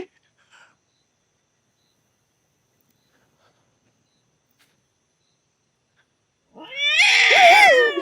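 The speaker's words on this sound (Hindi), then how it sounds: "बिल्ली थी" Long near-silence, then one loud, drawn-out cat meow close by in the final seconds.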